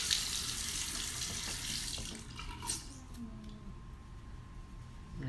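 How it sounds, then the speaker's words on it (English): A makeup brush is rinsed under a running bathroom tap, the water rushing loudly at first, then thinning to a gentler stream with faint splashes as the brush is worked under it. "I'm gonna just rinse it a few more times and squeeze it."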